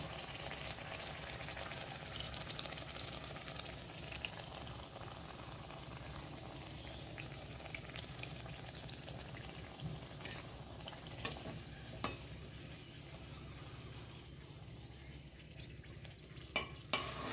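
Nimki, a flaky fried dough snack, fries in a pan of moderately hot oil, a continuous soft sizzle and bubbling with occasional sharper pops and clicks as pieces are moved, heard alone without talk.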